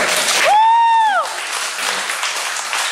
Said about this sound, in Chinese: 光是这个我们就给他拍手两下半。